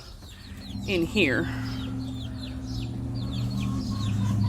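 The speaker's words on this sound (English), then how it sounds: "here are the chicks that I'm going to keep" Chicks in a small garden pen give soft, repeated clucks and chirps that continue nearby, with a brief louder squawk early on and a person speaking briefly.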